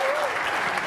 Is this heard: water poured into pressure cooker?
no